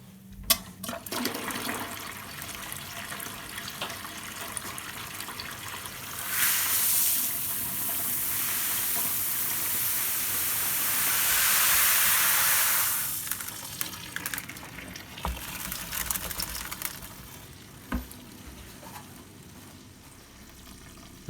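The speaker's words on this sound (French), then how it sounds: "On va faire tourner un peu la pompe." A pump circulating water during a home beer brew sends a steady rushing, hissing water flow that swells for several seconds mid-clip and then fades, leaving quieter clinks and handling noises.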